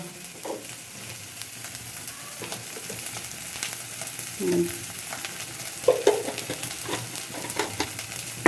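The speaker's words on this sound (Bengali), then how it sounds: "এবার মশলাটা ভাজা ভাজা করতেছে।" Ground spice paste fries in oil in a pan, a steady low sizzle broken by scattered scrapes and clinks of stirring, growing a little busier toward the end.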